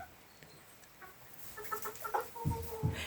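Backyard hens clucking close by in a series of short, uneven calls that build toward the end, with a couple of louder low clucks near the finish and no talking.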